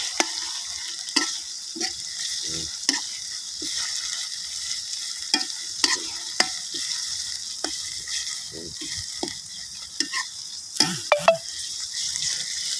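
Spicy bird meat stir-fried in a pan, a low steady sizzle broken by sharp scraping and clanking strokes of a spatula, close up with no talk.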